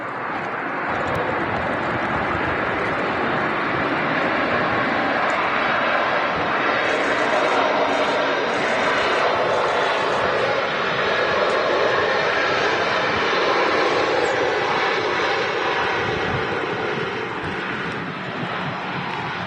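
A Ryanair airliner arriving from Berlin at Manchester Airport gives a continuous loud roar of jet engines and rushing air that persists throughout, with faint talk underneath.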